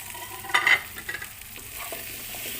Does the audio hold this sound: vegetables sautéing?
yes